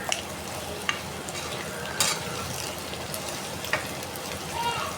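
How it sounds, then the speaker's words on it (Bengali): Potatoes fry in a pan for beef curry, giving a steady close sizzle with occasional stirring clatters and clicks. "এই যে আলুগুলা আজকে আমি ভাইজা নিতেছি, গরু গোস্ত আলুটা ভাইজা দেবো"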